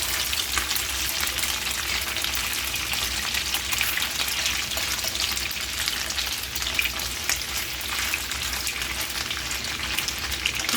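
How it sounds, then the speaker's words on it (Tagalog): Food half-fries in a pan with a continuous, even sizzle and crackle, close and moderately loud, with no talking. "3 minutes each side siya guys, na iprito"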